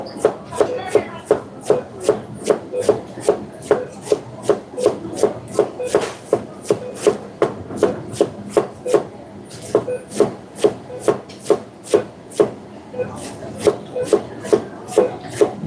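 Rapid, steady knife chopping of food on a board in a busy professional kitchen during fast catering prep, dozens of crisp even strokes close up with no talk.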